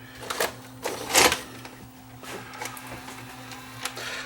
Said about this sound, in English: Let's try loading a tape.